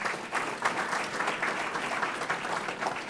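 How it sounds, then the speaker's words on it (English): Audience applause at a Manatee Chamber of Commerce event honoring Vern Buchanan, a steady wash of many hands clapping throughout, fairly even and moderately loud with no voices over it. "let's give him a round of applause."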